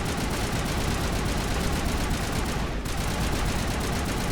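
Continuous loud assault rifle fire from Mass Effect 1 Legendary Edition, a dense rapid stream of shots with a brief dip near the end, with no talking.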